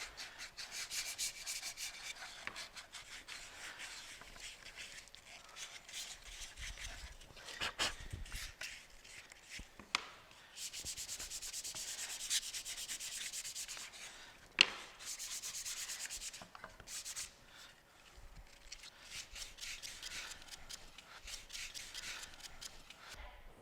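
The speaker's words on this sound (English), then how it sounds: "Okay, now that we're done sanding" Wooden birdhouse pieces are hand-sanded with soft, steady rubbing strokes that come in rhythmic runs with a few brief pauses and knocks, quiet and close.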